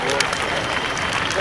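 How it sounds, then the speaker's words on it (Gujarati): Dense, steady applause from a crowd at a 64th Republic Day flag-hoisting ceremony held by a municipality at Adajan. It stays loud and even throughout the short stretch, with voices mixed into the noise. "આપણે સૌ વાહ જોરદાર તાળીઓથી બતાવીએ."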